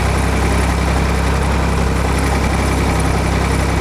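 A vehicle engine hauling soil under heavy load while clearing tree roots runs with a loud, constant low drone and vibration, unbroken and steady with no voices.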